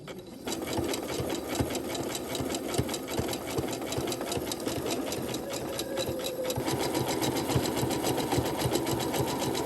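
Sewing machine stitching a zigzag satin stitch around a quilt square, a rapid steady mechanical chatter with the motor whirring beneath, close and continuous, briefly pausing then resuming.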